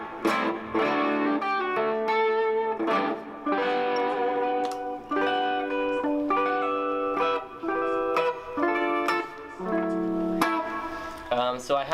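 Electric guitar run through a Strymon Big Sky reverb pedal on a basic hall setting, picked chords and single notes ringing out with a lush sustained tail between phrases, played alone.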